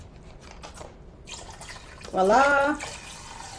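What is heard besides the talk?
pouring vegetable broth into a soup pot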